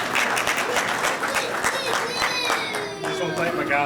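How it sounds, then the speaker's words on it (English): A crowd applauds warmly at a Faster Pastor race event, a dense, steady wash of clapping from many hands at close range, with voices and cheers scattered through it. "so round of applause for that"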